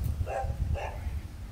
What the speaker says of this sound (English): That dog has watched me build this whole thing and barked at me the whole time.